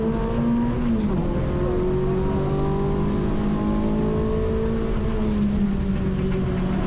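A Renault Clio race car's engine drones loudly and steadily as another Clio passes close by at Snetterton during a track day, its pitch sliding down as it goes past.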